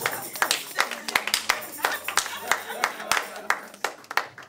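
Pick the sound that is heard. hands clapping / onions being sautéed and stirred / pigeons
hands clapping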